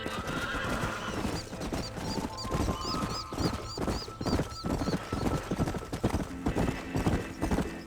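Horses clip-clopping in Red Dead Redemption, a steady run of hoofbeats with a whinny partway through, loud and close under ambient game sound.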